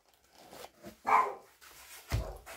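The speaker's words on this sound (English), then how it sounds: "A dog can hear me talking and then set the other dog off." Dogs bark a few times at moderate distance, short sharp yaps scattered over a couple of seconds with quiet gaps between them.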